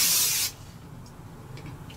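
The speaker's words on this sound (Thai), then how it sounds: "ปกติแล้วพิมจะใช้วิธีการกลอย่างรวดเร็วฟึบเดียวนะคะแค่1สเปรย์เท่านั้นนะคะแบบนี้ค่ะ" A single short burst of makeup primer spray from a pump bottle, a loud broad hiss lasting about half a second, followed by quiet room tone.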